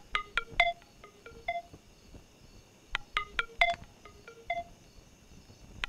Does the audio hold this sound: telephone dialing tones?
yes